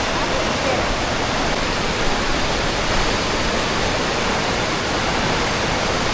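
Aw-Asen Falls in Ilocos Sur roars as a steady, loud, broadband wash of falling water, constant and close throughout with no break.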